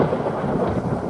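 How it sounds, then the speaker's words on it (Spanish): A heavy downpour with rolling thunder, used as a sound effect in a narrated story, rumbles loud and continuous as a dense, steady wash of rain with no voice over it. "comenzó a llover como nunca"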